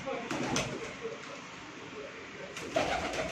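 Pure Sialkoti pigeons cooing softly on a rooftop, a few faint calls over steady outdoor background with speech nearby.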